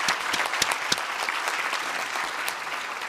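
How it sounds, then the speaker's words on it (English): Steady, dense applause from an audience, loud and sustained throughout with sharp individual claps popping out of the wash. "a round of applause"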